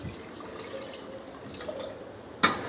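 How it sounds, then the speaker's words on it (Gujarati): Water pours into a pressure cooker holding four medium potatoes set to boil, a steady close trickle with a sharper splash near the end; no one speaks. "કુકરની અંદર આપણે થોડું પાણી નાખશું"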